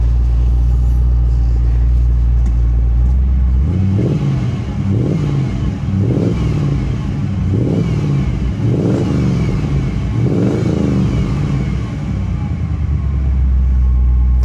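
A car engine, recently repaired after a gas leak, running at a slightly fast idle: a steady, loud low rumble with a rhythmic pulsing throb that rises and falls through the middle, heard alone without voices.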